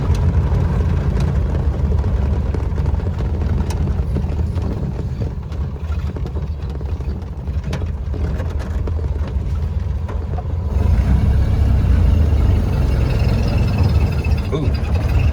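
A 1931 Ford Model A pickup's engine idles after a drive, leaking coolant at the radiator cap, with a steady close rumbling drone that grows heavier near the end.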